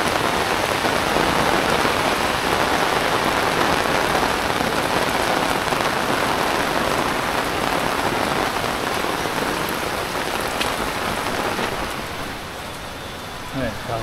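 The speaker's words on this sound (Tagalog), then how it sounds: "Sabi, lakas ng ulan." Heavy rain pours down steadily over rice paddies, a dense, loud hiss of drops drumming on a surface that eases slightly near the end.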